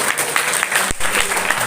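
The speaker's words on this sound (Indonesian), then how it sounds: "Wah, tepuk tangan dulu." An audience at a Ramadan religious lecture in a high school claps briefly, a short burst of scattered applause filling the room with one sharp thump midway.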